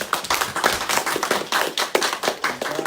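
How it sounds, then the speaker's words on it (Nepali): A church congregation claps hands in thanks during a worship service, a loud, steady run of sharp overlapping claps with a loose rhythm throughout, and no talking. "हामी ताली बजाएर धन्यवाद दिनेछौँ"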